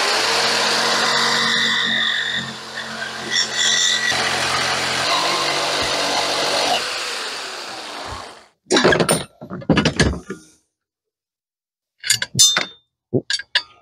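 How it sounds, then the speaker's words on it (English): A Sawzall reciprocating saw cuts a bent frame part on a wrecked Mercedes C300, a loud buzzing run for about eight seconds, then stops, followed by scattered clanks and rattles of metal. "We have Sawzall blades. It's bent, it's in the way, so I'm gonna cut it out."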